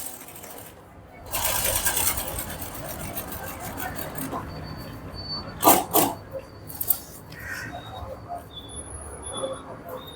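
A sewing machine stitches along the neck edge of a kurti in short bursts of rapid mechanical chatter, with handling clicks and brief pauses between runs; no talk over it.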